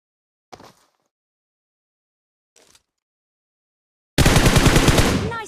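Rapid automatic gunfire from a PUBG firearm, a loud sustained burst near the end after two brief faint earlier shots, with no talking.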